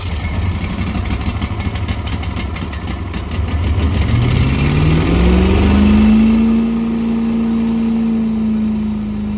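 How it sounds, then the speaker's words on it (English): A small gasoline engine, run for the first time since autumn winter storage with the choke held, chugs through a few seconds of cranking, then catches and climbs to a loud, steady full-throttle drone close by. "this is the first time firing it up since the fall"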